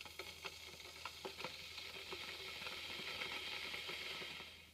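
A spoon stirs soy milk into a cup of organic black tea, giving soft, repeated clinks and scraping taps in an irregular rhythm, close and fairly faint over a low background hum.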